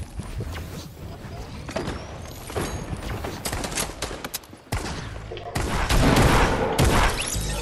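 Shotgun blasts and other gunfire in Fortnite, a series of sharp bursts with loud booms spread through the stretch and a dense barrage near the end, under faint game noise.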